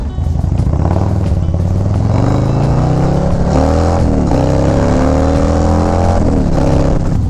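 A Harley-Davidson Low Rider ST motorcycle fitted with a 131 big-bore kit revs loudly and close, its deep engine note climbing in repeated rising sweeps for about seven seconds, with no talking.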